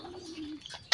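Racing pigeons in a loft coo once with a soft, low call, followed by a brief rustle of wings or movement.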